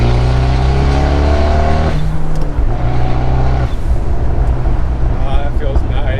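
Loud, close exhaust note of a Fiat 124 Spider with its 1.4-liter four-cylinder, pulling hard through a climbing rev, then dropping off on a shift. It keeps a rough, throbbing drone and surges again, and nobody is talking.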